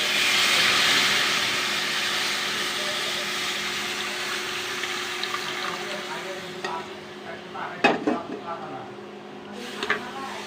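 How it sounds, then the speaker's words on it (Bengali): Milk pours into a pot of browned, fried vermicelli, starting as a broad steady hiss that gradually fades over several seconds, followed by a few sharp clinks of a utensil. "এখন আমি দুধ ঢেলে দিব"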